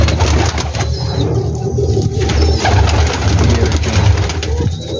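A flock of pigeons coos continuously on a large rooftop loft in Gujranwala holding about 2000 birds, with soft throaty calls overlapping near and far and someone speaking briefly over them.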